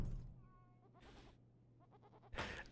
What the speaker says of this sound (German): Eine Ziege geht in diesem gut ausgestatteten Raum gemächlich auf und ab.